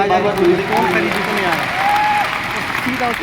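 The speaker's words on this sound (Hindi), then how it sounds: "भाई अपने आप थोड़ी सी ताली बजा दो अगर अच्छी बात लगे तो" An audience at an RCM 24th anniversary product launch event breaks into steady applause, a dense wash of clapping from a crowd that holds evenly throughout, with voices faintly mixed in.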